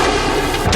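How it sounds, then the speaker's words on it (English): Grenade blasts tear through a dense crowd in Bangladesh, one loud continuous roar of explosions echoing off surrounding buildings, with no voices. "A series of explosions rip through the air, echoing off the buildings around them."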